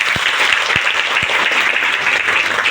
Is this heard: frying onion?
no